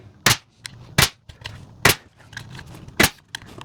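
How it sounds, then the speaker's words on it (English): A nail gun fires nails into a wooden shelf, giving four or five sharp, loud snapping shots at irregular intervals, with faint rustling and handling noise between them. "I'm using this nail gun because I have that cordless"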